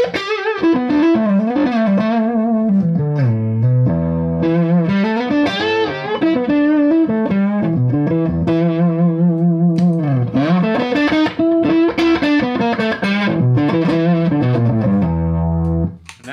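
A custom electric guitar on its neck pickup runs through a mild overdrive, playing a continuous, fluid lead line with bends and sustained notes, loud and close, with a brief pause near the end.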